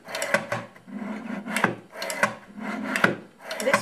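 A gouging tool is drawn along a piece of cane lying flat in its bed while a reed is shaped, giving five firm, evenly spaced scraping strokes, close and fairly quiet, with no talk.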